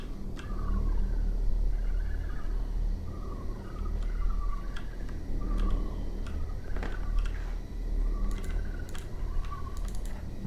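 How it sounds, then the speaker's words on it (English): Birds in the video game Obduction call in short repeated chirps and warbles over a steady low ambient hum, spaced every second or two, with a few sharper high calls near the end. "I love those birds."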